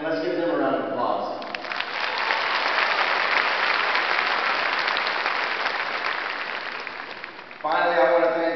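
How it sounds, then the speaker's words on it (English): A graduation audience in Shreveport, Louisiana breaks into sustained, loud applause that swells and holds for several seconds, with a voice speaking briefly before it begins and again as it tapers off. "let's give them a round of applause"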